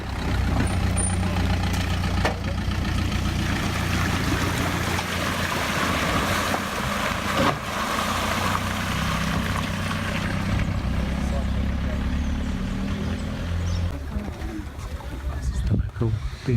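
A large Land Rover crosses a river ford, its engine drone mixed with continuous rushing, splashing water for a sustained stretch, loud and close throughout.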